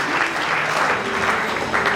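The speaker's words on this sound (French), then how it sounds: "On peut rendre grâce à Dieu, on peut acclamer encore." A church congregation at a French-language worship service breaks into loud, sustained applause and cheering, a dense crowd of clapping hands filling the whole moment.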